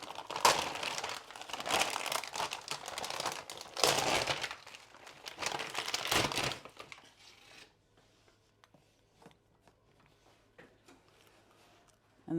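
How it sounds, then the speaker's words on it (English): A plastic dialysis fluid bag is torn open with loud, close crinkling and ripping bursts for several seconds, followed by faint scattered rustles and handling noises. "To tear open the bag, there's a small slit and a larger slit. I'm looking for the larger one, and then I can tear this off."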